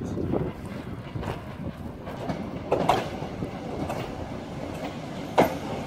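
Train rolling along the rails with rhythmic clacks and occasional sharp metallic squeals, wind buffeting the microphone in the background.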